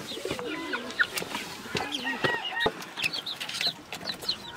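Chicks in a coop drinking from their waterers, with a steady chorus of high chirps and peeps from the flock, close by and moderately loud, with adult hens clucking alongside.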